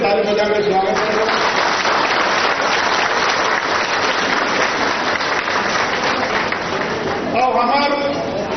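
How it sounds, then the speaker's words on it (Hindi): A crowd at a political event in Chhattisgarh applauds to welcome the chief minister, dense clapping that runs steadily through the whole stretch, with a voice over a loudspeaker briefly heard at the start and end. "जोर से ताली बजा कर स्वागत करें"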